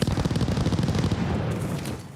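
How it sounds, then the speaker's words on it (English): Rapid machine-gun bursts from a strafing aircraft in a video game, dense booming rattles up close that thin out and fade over the final second. "Hostile strafe inbound."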